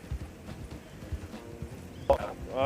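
Horse hooves clip-clop in a steady rhythm at moderate distance in the video game Red Dead Redemption, ending with a brief whinny-like call near the end.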